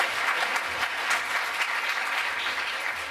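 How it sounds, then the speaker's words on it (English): Steady audience applause at a healthcare data forum session, dense and continuous throughout without any voices on top, fairly even in loudness from start to finish. "Let's give another applause for Dr. Sears and Dr. Liu."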